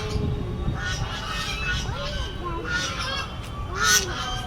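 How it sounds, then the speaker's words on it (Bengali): Geese honking at Amarabati park in Digha, with repeated nasal calls carrying from some distance over a busy outdoor murmur and background voices. "রাজহাঁসের এত প্রখর আওয়াজ যে এখানে অবধি আওয়াজগুলো শোনা যাচ্ছে।"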